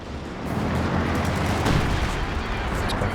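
A creeping artillery barrage in the video game Company of Heroes 2 rumbles continuously with dense booms and explosions, loud and sustained throughout.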